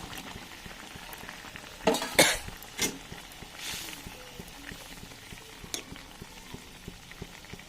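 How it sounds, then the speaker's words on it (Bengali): Fried red lentil fritters dropped into boiling curry broth, a low steady bubbling with a few sharp splashing clatters in quick succession, then softer stirring knocks and simmering; no speech. "ঝোলটা ভালো মতো ফুটে গেছে, এবার আমি দিয়ে দেবো ভেজে রাখা বড়াগুলো"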